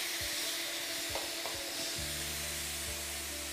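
Steady broadband hiss of steam venting from the valve of a Silit Sicomatic T Plus pressure cooker, loud and continuous throughout, with a few soft clicks and a low hum joining partway.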